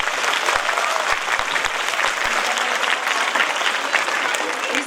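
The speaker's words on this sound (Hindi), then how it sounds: "हमारे भारत देश के लिए जोरदार तालियां तो बनती है" Loud, continuous applause from the audience at a school annual function in India, many hands clapping together in a steady dense wash, with a few sharper individual claps standing out near the front.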